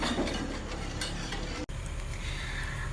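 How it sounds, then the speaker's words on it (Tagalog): Sugar stirred continuously in a pan so it won't burn, giving a close, steady scraping and rustling texture with faint ticking clicks, uninterrupted except for one momentary gap. "Continuous stirring lang kasi baka masunog yung asukal."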